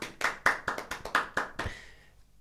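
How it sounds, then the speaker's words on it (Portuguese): At a stand-up comedy show, a small audience gives a brief round of sharp, distinct hand claps, about ten close, crisp hits in quick succession that thin out and stop after two seconds. "Marcos Bilro, uma salva de palmas."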